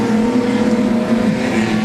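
Race cars roar around an oval track in a loud, continuous engine drone, with a sustained pitch that shifts slightly as they pass.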